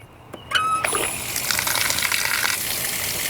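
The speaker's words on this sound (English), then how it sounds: "I can actually turn on the water right now." After a brief click, water bursts out and gushes steadily from a Flexzilla garden hose, a loud continuous rushing spray close by.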